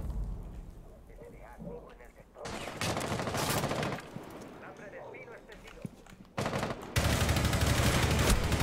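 Bursts of automatic gunfire rattle in a Rainbow Six Siege match, loud sustained volleys broken by quieter stretches where a voice talks over the game sounds.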